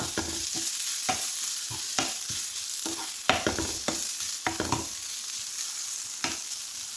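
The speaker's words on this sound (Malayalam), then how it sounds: "എല്ലാം കൂടി ഒന്ന് വഴറ്റി കൊടുക്കുക നല്ലതുപോലെ ഒന്ന് ഇളക്കി കൊടുക്കുക" Prawn masala with grated coconut sautéing in a pan: a bright, continuous sizzle under repeated sharp scrapes and taps of a spoon, close up and alone.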